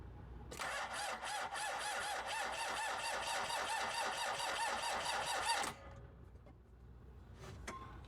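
A Mitsubishi Pajero engine cranks with a rapid rhythmic starter whir for about five seconds, catches, and settles into a quieter idle, close and loud with no talking.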